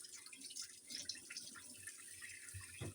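A cucumber is rinsed under a running kitchen tap, a faint, steady splash of water with soft irregular splatters as it is turned in the stream.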